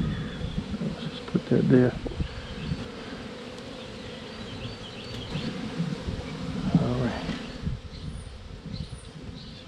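A swarm of bees buzzes around a bee tree setup, a steady droning hum close by, while someone speaks briefly and handling knocks sound at a few points.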